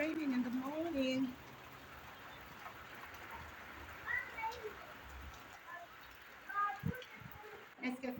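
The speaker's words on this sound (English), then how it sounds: "It's raining in the morning." Early morning rain falls in the countryside, a steady soft hiss running throughout, with a few voice-like and chirping sounds rising above it near the start and end.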